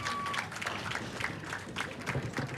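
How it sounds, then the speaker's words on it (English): Spectators at a 1992 duckpin bowling national invitational, girls division, give the winner a round of applause, heard as a fairly faint, steady patter of many hands clapping that continues for a few seconds. "Crowd's just giving her big hand."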